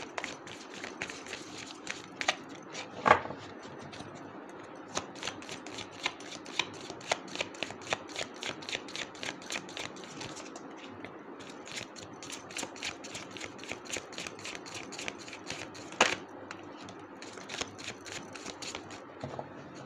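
Tarot angel cards being shuffled in rapid, crisp riffling bursts that repeat steadily for about twenty seconds, close and fairly loud, with a couple of sharper snaps and no talk.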